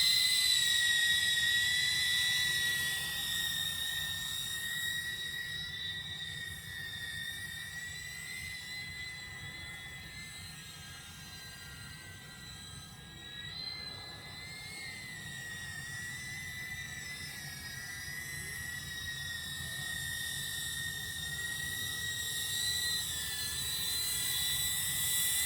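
An Eachine Cvatar 120mm cinewhoop drone flying on a 14.4-volt battery gives a thin, steady, high-pitched whine that holds faint and fairly distant throughout, with slight wavering in pitch.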